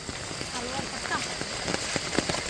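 Monsoon rain falls steadily on surfaces during a first-rain fishing trip for upstream-running fish, a dense, even patter under people talking nearby.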